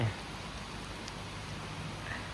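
Steady rain falling, a dense continuous patter and hiss with no breaks, moderately loud and close, with no voices.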